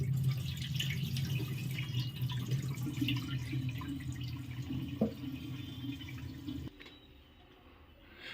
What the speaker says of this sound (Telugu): ఇప్పుడు నార్మల్ వాటర్తో క్లీన్ చేసేస్తున్నారు.